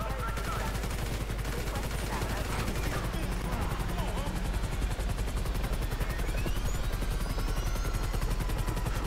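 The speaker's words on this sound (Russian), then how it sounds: "Еще один вертолет." Another helicopter in the video game GTA 5, its fast rotor chop pulsing steadily and loudly through the whole stretch, mixed with gunfire and occasional speech.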